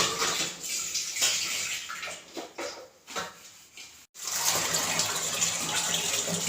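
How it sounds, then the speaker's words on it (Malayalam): Dishes being washed under a running tap, a steady gush of water with brief dips and clatter as vessels pass beneath the stream, then a fuller continuous flow. "ഈ പാത്രം ഒന്ന് കഴുകിയിട്ട് കുറച്ച് പാത്രം കഴുകാണ്"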